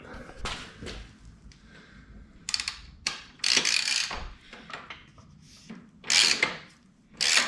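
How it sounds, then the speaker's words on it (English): A socket wrench ratchets as old bolts come off a Ducati Hypermotard 1100: close, irregular bursts of clicking pawl and gritty metal turning, some short and some longer, with brief quiet gaps between them. "there's not a lot of force required to actually remove the old bolts, so we're going to do that"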